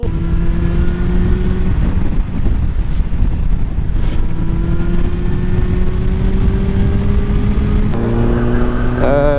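A Kawasaki ER6 motorcycle's exhaust drones loud and continuous while riding, its engine tone climbing and shifting through gear changes under heavy wind buffeting.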